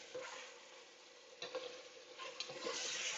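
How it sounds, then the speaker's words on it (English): Food sizzles steadily in a pan while a utensil scrapes and stirs through it in a few louder strokes, close and without any talk, as part of an easy Mexican dinner. "Just keep stirring"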